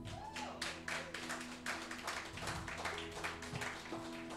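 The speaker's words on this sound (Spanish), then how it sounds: "Entonces denle un aplauso a Cristo." A church congregation claps for Christ, quick dense claps mixed with sustained organ or keyboard tones, moderately faint with a little voice in the background.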